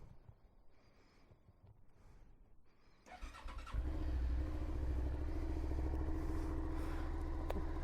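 A motorcycle engine cranks after a few quiet seconds of ambient noise, catches with a clattering burst, and settles into a steady, loud idle close by.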